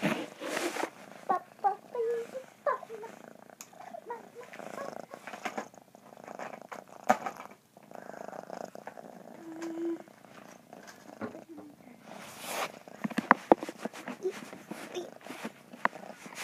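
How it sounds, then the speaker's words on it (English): A cat purrs close to the mic in soft, uneven rumbling bursts, broken by brief rustles and small handling noises. "And this is my cat."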